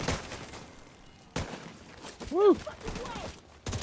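Gunfire unloading on a boss in The Division 2, heard as sharp bursts of shots with a voice exclaiming over the firing, with a few loud cracks and ringing tones in the middle.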